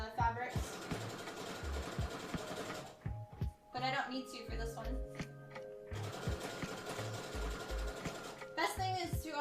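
A sewing machine stitches fabric for a Hu Tao cosplay costume, running in rhythmic stop-start bursts of rapid mechanical chatter, close and fairly loud, while a person talks over and between the runs.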